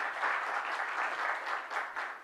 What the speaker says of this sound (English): Round of applause for the speaker.